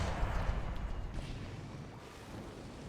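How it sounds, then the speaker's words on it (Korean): A spaceship engine in StarCraft II gives a low, continuous rumbling roar that is steady and fairly faint, slowly fading, with no talking over it. "엔진 소리 죽이는데?"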